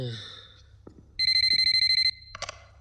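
A phone rings for an incoming call with a bright electronic ringtone, a rapid pulsing tone lasting about a second, followed by a couple of short beeps, loud and close amid quiet room noise.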